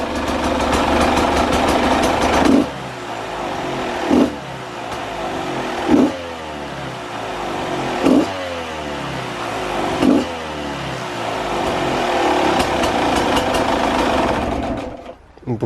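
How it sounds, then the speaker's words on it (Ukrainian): Beta RR 200 motorcycle engine, freshly rebuilt with a new piston, running close by with a raspy buzzing idle and five sharp throttle blips spaced about two seconds apart, then settling before cutting off. "Отако ну, заводиться."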